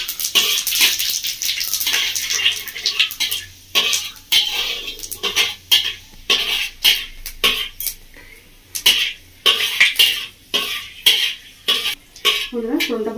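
Whole spices (dried chili, bay leaf, panch phoron) frying in hot oil in a pan, a hissing sizzle punctuated by repeated scraping strokes of a metal spoon stirring, rhythmic and close.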